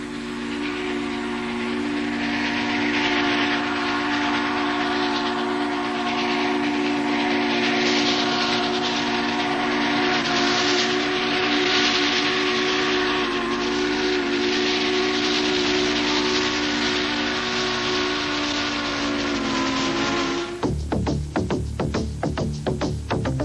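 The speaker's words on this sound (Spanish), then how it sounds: "El tren retrocede y las cámaras están listas, seguidas por una hermosa sinfonía para cada aficionado a los trenes." A steam locomotive reversing sounds its steam whistle in a long, loud, sustained blast, ending with sharp hissing steam bursts and rhythmic chuffs close by.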